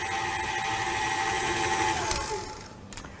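An electric mixer creams butter and sugar with a steady, close motor whine that shifts slightly in pitch, ending in a short clatter.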